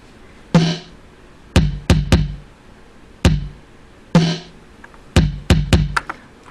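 A Yamaha RX-7 drum machine plays a simple pattern of sharp, punchy hits in a loose, repeating rhythm, about a dozen strikes over several seconds, heard alone and close.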